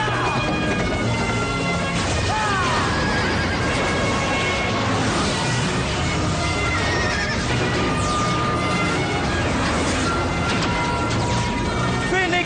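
A unicorn horse neighs and gallops with clip-clopping hooves in a loud, dense action scene, whinnies rising over crashes and a busy soundtrack throughout.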